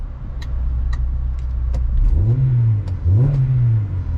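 A Honda Accord CL9 Type R engine revs with its exhaust valve open. The loud idle climbs into two rising revs with a deeper, fuller tone, and no voices are heard.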